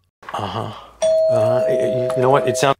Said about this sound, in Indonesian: Saat Kevin sedang memperbaiki kaset, bel pintu pun berbunyi.